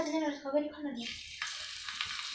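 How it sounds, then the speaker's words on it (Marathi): Onion dropped into hot oil for restaurant-style pasta, bursting into a bright, close sizzle that continues steadily after a woman's brief speech. "आता हे आपलं तेल गरम झाले बघा तर याच्यात आपण आधी सगळ्यात आधी कांदा टाकू"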